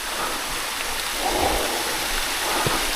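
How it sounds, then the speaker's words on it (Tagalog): Steady rushing water of a waterfall in Quezon, Palawan, a broad continuous wash of falling water close by with no talk over it. "Ito na pala yung sinasabi nilang waterfalls."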